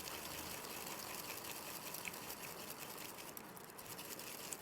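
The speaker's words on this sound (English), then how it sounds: "And let's whisk." A bamboo matcha whisk beats matcha powder into about 30 ml of plain water, giving a fast, continuous, frothy swishing that stays steady and close throughout.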